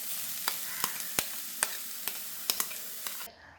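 Chicken pieces being stirred with a ground spice paste in a frying pan for a chicken and cabbage thoran, a soft sizzle broken by about eight sharp scraping clinks of a spoon against the pan, close and without talk.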